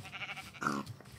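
A single short, nasal bleat from a sheep in Minecraft Java Edition, fairly faint and brief, with quiet game ambience around it.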